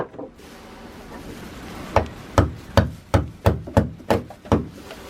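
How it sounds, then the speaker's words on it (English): Hammer blows chip loose scale off a boat's fiberglass hull in a shipyard: about nine sharp, close, hard knocks in a fairly even rhythm after a quiet start. "I'm trying to bust off any loose scale I can get."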